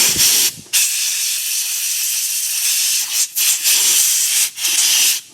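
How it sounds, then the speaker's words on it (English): Compressed air blasts out around the transmission pan magnet of a 2022 Ford F-350 with a 10R140 transmission, a loud steady hiss broken by a few brief pauses where the trigger is released. "I'm going to blow that out with compressed air around that magnet until it comes clean."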